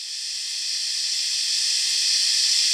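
A synth riser effect built in Serum swells as a bright, airy noise wash that steadily grows louder over about three seconds, peaking at the end with a harsh, clipped edge. It plays alone with no voices.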